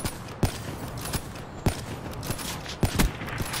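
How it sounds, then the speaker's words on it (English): Rapid bursts of gunfire from the Call of Duty Black Ops III video game, sharp repeated shots spaced irregularly over steady background game noise, with no talking. "I just shoot and I hit you."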